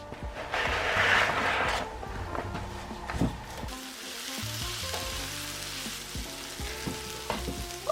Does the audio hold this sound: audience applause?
no